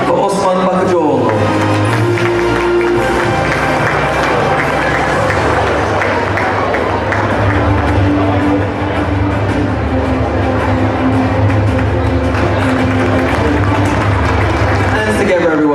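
Audience at a UK awards gala dinner applauding for an honoree, broad clapping spreading through the room after a presenter's voice, with scattered cheers and the host talking briefly over the ovation.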